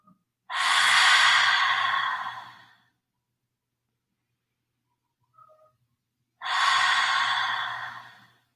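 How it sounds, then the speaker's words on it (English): Two slow, deliberate breaths during a stretching and mindfulness session, each one a long, soft exhale that fades out, separated by a few seconds of quiet. "Breathing in through the nose, out through the mouth."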